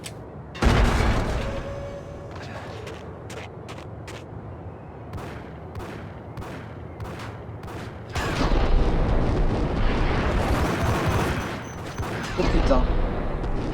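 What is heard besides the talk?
gunfire in the video game Max Payne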